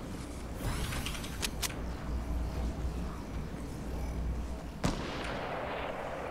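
Fortnite gunfire: a few sharp cracks early on, then a lone louder shot near the end, all over a low rumbling game background with no talking.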